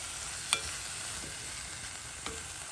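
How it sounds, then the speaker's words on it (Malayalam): Tomatoes being stirred in a pan over a medium flame for a tomato rasam, a steady soft sizzle with a couple of brief utensil scrapes, close and fairly quiet, no voices. "ഇനിയിപ്പോൾ വേണമെങ്കിൽ ഇച്ചിരി ഫ്ലെയിം കൂട്ടി വെച്ച് മീഡിയം ഫ്ലെയിമിലാക്കിയിട്ട് നമുക്ക് എല്ലാം കൂടെ ഒന്ന് മിക്സ് ചെയ്തെടുക്കാം"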